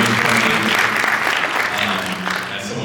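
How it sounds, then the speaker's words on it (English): Loud, full applause from a drug policy summit audience for presenters Phil and Blair, a thick, continuous wash of clapping close by with a murmur of voices mixed underneath. "Let's give Phil and Blair another round of applause."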